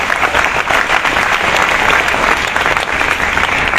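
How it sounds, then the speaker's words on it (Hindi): A lecture audience applauds with steady, dense clapping, loud and sustained throughout with no pauses. "ताली तो बजा दीजिए सबसे मेहनत की"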